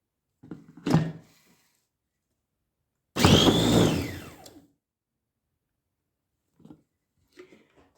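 An electric hand mixer beats eggs and sugar, giving one loud whirring burst of about a second and a half, preceded by a short clatter and followed by faint knocks.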